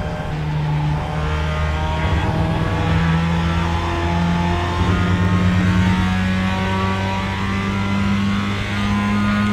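Race car engine in the iRacing simulator during practice, a loud sustained drone with shifting pitch as it revs and accelerates through gears, without talk.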